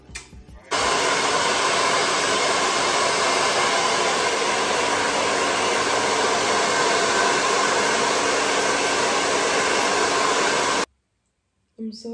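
A hair dryer blows on hair set in rollers, switching on abruptly and running as a loud, constant whoosh for about ten seconds before cutting off, with brief sounds at either end.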